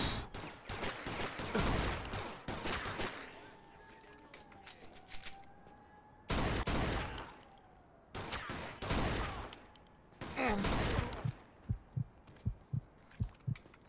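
Rapid bursts of gunfire in Mafia 2, loud, close, clustered volleys with short pauses between them, ending in a run of distinct single shots.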